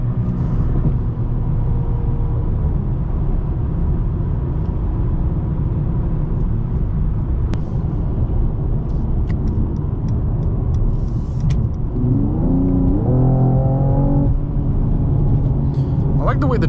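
A 2020 Mercedes-Benz E53 AMG cruises and accelerates from the cabin with a steady low engine and road rumble, and a brief rising note near the end as it gains speed. Someone talks throughout.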